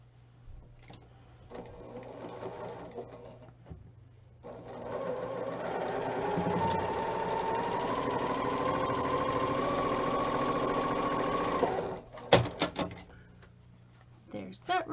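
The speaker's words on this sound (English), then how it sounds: "So let me sew this together." A sewing machine stitches a dark lucky clover quilt block in one sustained whirring run of several seconds, set between quiet handling noises and brief clunks at the end.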